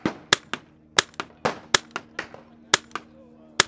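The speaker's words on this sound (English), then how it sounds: "all I need to do is insert my magazine" A 10-round magazine goes into a PepperBall launcher with a string of sharp, close plastic-and-metal clicks and clacks, about a dozen crisp snaps spaced irregularly over a few seconds.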